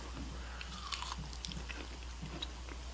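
Someone bites and chews a mouthful of liver up close. The soft, wet chewing comes in a steady rhythm over a constant low hum, with no talking.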